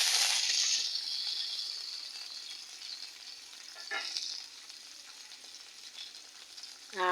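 Water poured into a pan of fried onions gives a loud burst of hissing sizzle at first, then settles into a softer, steady simmering sizzle with a few faint clinks.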